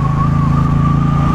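A Triumph Bonneville Bobber motorcycle engine idles steadily up close, a deep, even rumble that holds without revving for the whole moment.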